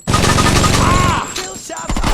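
Rapid gunfire from Saints Row 2, a dense loud automatic burst lasting over a second, then a brief pause before more shooting resumes, with a faint tonal whine in the middle.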